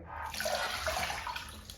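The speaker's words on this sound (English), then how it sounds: "When we do the cups, we sit the baby upright and we get the full cup of water." A full cup of water is poured over an eight-week-old baby in a bath, a steady splashing gush lasting under two seconds, close and fairly loud.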